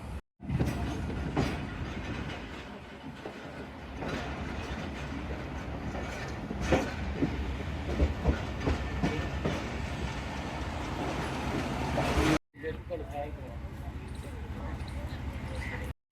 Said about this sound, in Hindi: ये जी हमारा टर्न टेबल के लिए लोकोमोटिव जा रहा है 6426 XC20।